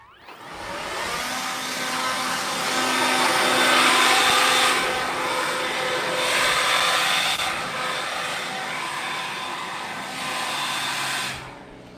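Ryobi 18V cordless blower, used alongside an edger, blowing grass clippings off a freshly edged lawn: a steady, loud whooshing motor roar that swells and eases slightly over twelve seconds before cutting off at the end.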